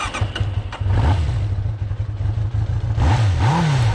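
A neglected, long-abandoned Suzuki GSX 600F motorcycle engine, its carburettor bowls just roughly cleaned, runs steadily at idle close by, with a couple of brief rises in revs near the end.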